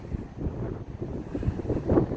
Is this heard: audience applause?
no